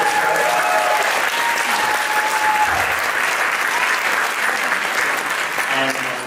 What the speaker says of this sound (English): Can we give a round of applause to the orchestra?